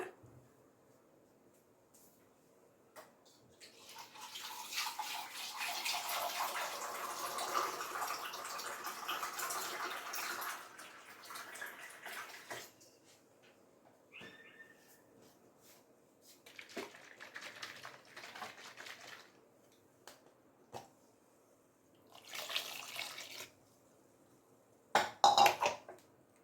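Water being added to a cucumber sambar masala in a kitchen pot makes a soft, sustained pouring splash for several seconds. It is followed by quieter intermittent splashes and light clinks of utensils.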